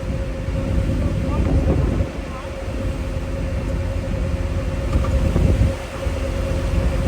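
An old Subaru L series or Ford courier farm car engine runs at full throttle with a loud, steady, rough low roar, dipping briefly twice, while people talk over it.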